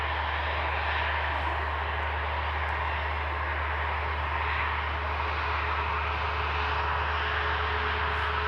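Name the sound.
Ryanair Boeing 737 jet aircraft landing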